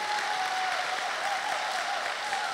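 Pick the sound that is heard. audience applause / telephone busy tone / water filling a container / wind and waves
audience applause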